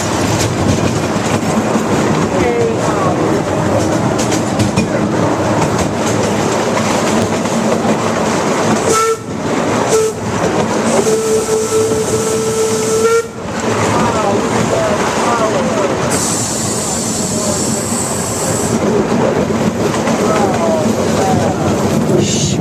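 A coal-fired train runs with a loud, continuous rumble and rattle heard up close from on board, with brief squealing tones and a couple of short dips in the roar.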